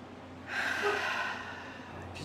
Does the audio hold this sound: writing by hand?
no